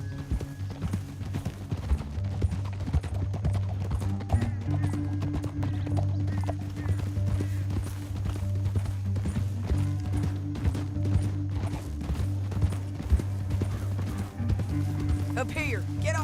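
Horses in Red Dead Redemption 2 clip-clop steadily at close range, hooves pounding in a continuous rhythm over a low rumbling bed, with a brief whinny near the end.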